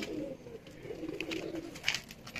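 Pigeons in a Lahore loft give soft, repeated coos, close and fairly quiet, with a brief brighter call near the end and no talking.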